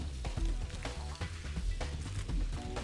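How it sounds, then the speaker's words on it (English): About a pound of sliced onions sizzling in a very hot pan for chicken fajitas, a faint continuous crackle and hiss with occasional stirring clatter. "Now I'm going to add about 1 pound of sliced onions."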